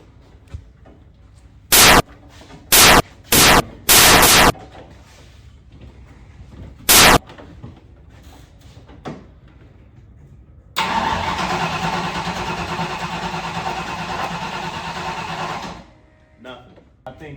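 An old Mustang engine with a suspected bad ignition coil is cranked over: several short grinding bursts come first, then a sustained five-second cranking run that stops abruptly, with voices heard in between.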